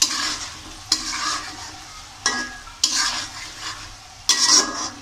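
Fish sautés in a hot pan as a utensil stirs and scrapes in short bursts, each starting with a sharp knock over a continuous close sizzle, with no voices.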